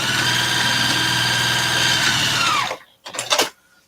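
A sewing machine stitches a fabric bag in a loud, steady mechanical whir that stops abruptly, then a brief clatter of handling follows.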